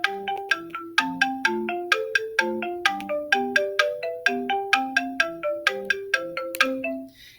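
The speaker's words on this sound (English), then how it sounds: "So let's listen to an arpeggio example" An arpeggio pattern from Chrome Music Lab Song Maker plays as bright synthesized notes, about four per second in a steady rising-and-falling cycle, clear and alone with no voices.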